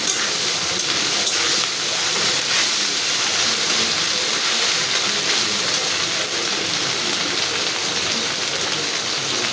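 Potato and bitter gourd with cumin paste and small shrimp are stirred in a hot pan. A loud, even sizzle and hiss fills the whole stretch, close and without talk.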